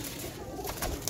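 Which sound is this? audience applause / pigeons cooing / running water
pigeons cooing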